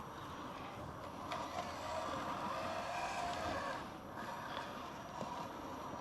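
A small mini RC crawler driving slowly in low gear, a steady whirring electric motor and gear whine with slight swells, close and moderately quiet, no voices.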